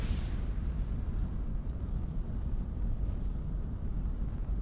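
Spaceship engines on turbo in the space game Avorion, a steady low rumbling roar with windy hiss, loud and constant throughout without any talk.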